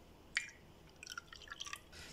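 Lemon water being strained into a glass while making nimbu pani: a single clear drip or splash, then a quick run of small trickling, tinkling drops of liquid falling into the glass, faint and close, with no talking.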